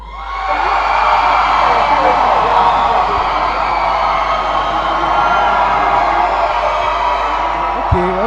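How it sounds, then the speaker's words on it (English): A large crowd at a school Founders' Day celebration screams and whoops loudly in support of Ghanaian jollof, a sustained roar lasting several seconds before cutting off. "I want to hear a loud scream."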